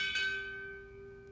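A single clear strike of a ceremonial ship's bell at a Navy chief petty officer pinning ceremony, its steady metallic ring decaying gradually and alone.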